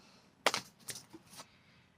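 A few quick snips of scissors cutting yarn, two or three crisp cuts close by in an otherwise quiet room.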